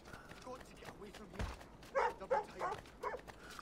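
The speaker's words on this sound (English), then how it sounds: "there are dogs" Dogs bark in a video game, several short loud barks in a quick cluster near the end, set over game background noise.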